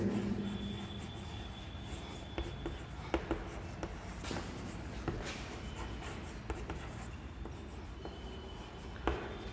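Chalk or marker writing on a classroom board, with soft scratchy strokes and several sharp taps as words are formed, fairly close, over a low room hum.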